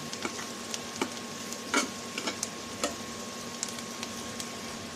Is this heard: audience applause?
no